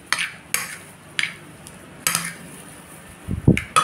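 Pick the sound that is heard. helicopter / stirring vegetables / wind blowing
stirring vegetables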